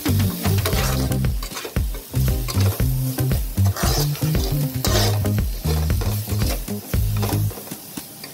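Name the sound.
stirring capsicum stuffing with spices in frying pan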